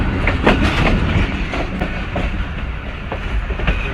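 The Hazara Express rolls through a railway station at a 20 km/h caution speed, a loud, close steady rumble punctuated by sharp rhythmic clacks of wheels over rail joints.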